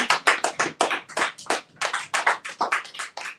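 A single person claps rhythmically at a live online event, around a dozen sharp, evenly spaced claps close to the microphone with no talk over them.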